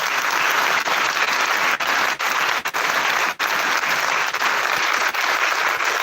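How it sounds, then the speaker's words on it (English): A concert audience gives a large round of applause after a devotional music performance, a sustained, dense roar of clapping with a few small dips and no voices. "please join me in giving them a big round of applause"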